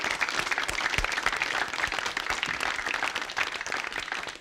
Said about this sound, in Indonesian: Penonton kita beri semangat.